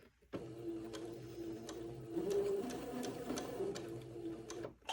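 A sewing machine runs steadily while stitching a seam on an antique baptismal gown, with a continuous close whirring hum and rapid ticking needle strokes that stop abruptly at the end.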